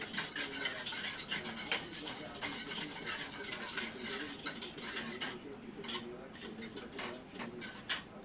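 A whisk works rapidly inside a pot, giving a steady, busy clatter of metal scraping and ticking that runs the whole time without a break, close up and moderately loud.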